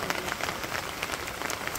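Rain falling in a Bangladeshi village, a soft continuous patter of drops on surfaces, faint and even with no voices.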